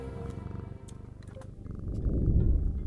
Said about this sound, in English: Good cat.